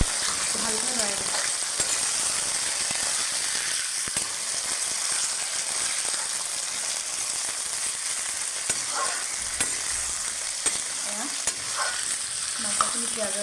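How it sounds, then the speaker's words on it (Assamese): Chicken pieces fry with browned onions in a pan, giving a steady close sizzle with scraping stirs and occasional clinks from the spoon. "মাংসখিনি পিঁয়াজৰ লগত ভাজি দিম।"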